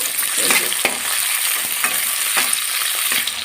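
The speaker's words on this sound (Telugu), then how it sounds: "సన్నగా కట్ చేసుకున్న టమోటా ముక్కలు అల్లం పేస్టు కరివేపాకు ఇవి కూడా వేసేసుకున్నాం ఇవి కూడా కాస్త ఫ్రై అయ్యేంత వరకు" Tomato pieces, ginger paste and curry leaves fry in a pan for cashew upma, giving a steady loud sizzle with several sharp scrapes of a stirring spoon, close by and without talk.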